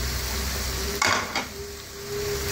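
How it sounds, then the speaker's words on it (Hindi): Spiced okra (lady finger) with turmeric, salt and red chilli is stirred in a pan, giving one brief loud scrape and clatter with a second lighter one, set against a steady hiss from the pan. "अब हम इसको अच्छी तरह मिक्स कर लेंगे।"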